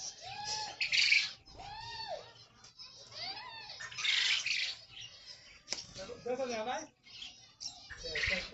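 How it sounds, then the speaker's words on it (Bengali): Birds perched on tree branches at a zoo in Saudi Arabia, squawking and chirping in repeated bursts, with a person talking over the calls nearby. "এখানে কতগুলো পাখি বসে আছে গাছের ডালে"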